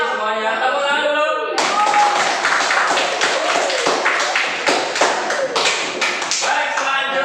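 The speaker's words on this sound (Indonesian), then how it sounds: "Tepuk tangan dulu." Classroom students clap together after a lesson, a dense run of hand claps starting abruptly after a teacher's short spoken intro and continuing steadily at close range.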